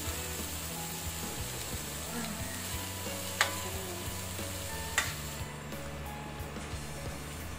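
Squid cooking in butter in a pan gives a steady sizzle with stirring, broken by two sharp utensil clinks, while faint low background hum continues throughout.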